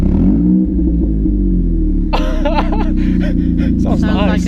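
Car with its exhaust torn open gives a loud, deep, steady engine rumble throughout, while people talk and laugh over it.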